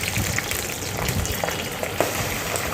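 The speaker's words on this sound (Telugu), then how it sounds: "ఆయిల్ వేడెక్కాక పల్లీలు వేసుకోండి. పల్లీలను దూరగా వేయించుకొని" Peanuts frying in hot oil, a continuous dense sizzle with small pops and crackles, close and fairly loud with no talking.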